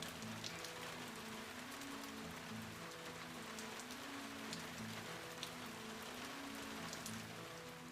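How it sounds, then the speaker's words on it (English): Steady rain patters on a tin roof with scattered sharper drop ticks, faint and continuous, while a low tonal hum drifts underneath. "The sound of rain on a tin roof"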